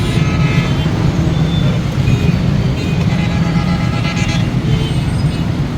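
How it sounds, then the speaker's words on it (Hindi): Dense traffic jam on a main road near Ravi Bridge, a loud continuous rumble of idling cars, trucks and buses with scattered horn toots, close and unbroken throughout. "आप देखें किस कदर ट्रैफिक ब्लॉक है।"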